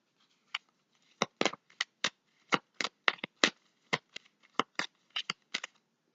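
Tarot cards are shuffled by hand, giving a run of sharp, irregular riffles and snaps, close and crisp, with brief silent gaps between bursts.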